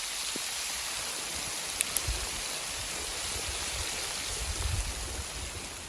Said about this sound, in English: Now the hail starts.